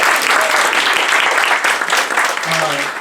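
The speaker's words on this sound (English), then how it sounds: "we can have a round of applause for Dr. Knight." Thick, steady applause fills a college lecture hall, a dense roar of many hands clapping together for a few seconds with faint voices mixed in.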